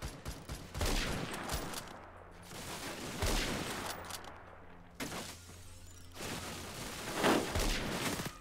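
Rapid bursts of gunfire from the online shooter game Phantom Forces, loud and close, with several volleys of sharp shots separated by brief pauses and no talking.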